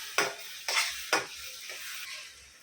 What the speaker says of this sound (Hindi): अभी वापस टमाटर डाल के अच्छे से भूनेंगे